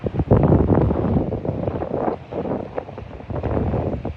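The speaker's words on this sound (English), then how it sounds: "that wind's picking up" Strong, gusty wind roars across a winter beach, buffeting the microphone with loud, continuous rushing that surges and eases in waves.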